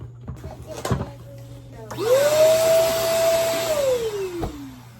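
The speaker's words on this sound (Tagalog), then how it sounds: "testing natin gaano ba kalakas ng vacuum na to." A SOARFLY vacuum cleaner switches on after a few handling knocks, rising to a loud, steady whine that holds, then winds down as the motor slows.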